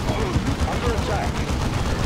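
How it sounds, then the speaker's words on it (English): Ork gunfire in Dawn of War 2 rattles in a dense, continuous barrage of loud, overlapping shots, with battlefield voices mixed into the din. "Orcs are firing on us!"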